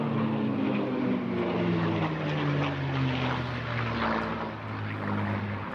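A World War II long-range fighter escort aircraft makes a flypast at an airshow in Eastbourne, its piston engine droning with a slowly falling pitch as it passes at moderate distance.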